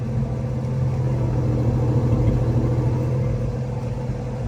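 A 1952 Chevrolet 3100 pickup truck engine idles steadily, a low, even rumble with a smooth mechanical hum that holds constant throughout, close by.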